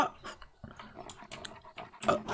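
A dog growls and snarls in the survival video game 7 Days to Die, heard as a few rough, uneven bursts at moderate loudness that grow stronger near the end.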